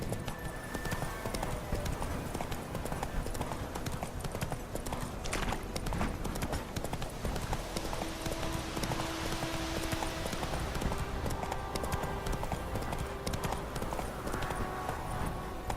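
Roach the horse galloping in The Witcher 3, a fast continuous run of hoofbeats with an occasional whinny, loud and close over ambient game sound.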